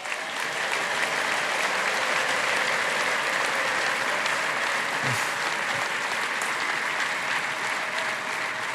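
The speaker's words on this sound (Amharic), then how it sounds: "አንዴ ከፍ ባለ ጭብጨባ ጌታ ስለ ምህረቱ" A church congregation bursts into loud, sustained applause, dense and even for the whole stretch, filling the room.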